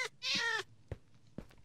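A Minecraft cat gives a single short, clear meow in the video game, followed by a few faint clicks and taps, with no talking.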